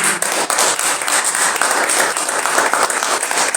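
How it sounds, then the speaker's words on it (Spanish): Applause from an audience at a civic event honoring a guest in Tecámac, a steady dense wash of many hands clapping throughout, close and loud with no talk over it. "Quiero pedir un fuerte aplauso a él"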